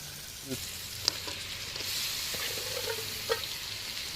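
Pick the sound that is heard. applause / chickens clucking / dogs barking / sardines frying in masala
sardines frying in masala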